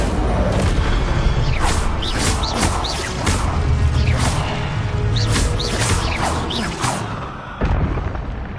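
Fire spell cast repeatedly in the video game Hogwarts Legacy, loud bursts and whooshing blasts following one another in quick succession with crashing impacts, no voices.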